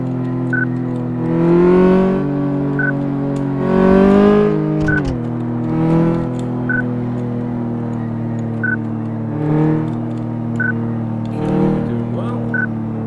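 A car engine drones in the Car Mechanic Simulator video game on its test track, swelling in several revving surges over a steady hum, with short regular beeps sounding about every two seconds.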